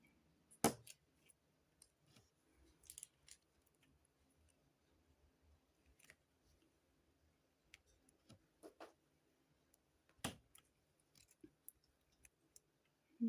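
A pair of scissors cuts indoors, faint and close, giving a few scattered sharp snips and clicks separated by long quiet gaps.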